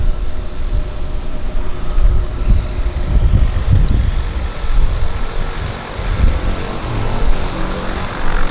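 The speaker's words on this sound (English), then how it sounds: "Beautiful landing on the Beaver." A de Havilland Beaver propeller floatplane lands at a downtown harbour airport, its engine droning steadily and loudly with a swelling rumble as it comes down onto the water.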